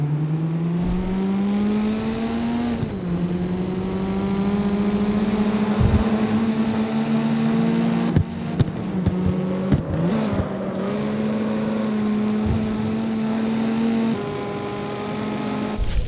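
Nissan 240SX race car engine in an underground street-racing video game, a loud sustained drone that climbs through the gears with sharp shifts, briefly dipping and cutting out before surging again, close and continuous.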